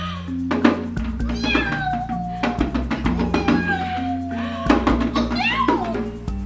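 A voice imitates a cat, with repeated high, wavering meows in quick succession over a steady low hum and background chatter.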